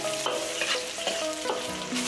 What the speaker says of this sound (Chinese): 重新起锅，下油，下姜蒜泥、花椒一起爆出香味